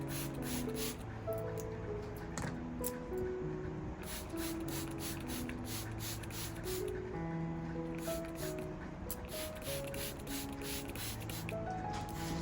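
A spray bottle misting water onto a money plant, a rapid series of short hissing spritzes in irregular clusters, close by, with soft music playing underneath.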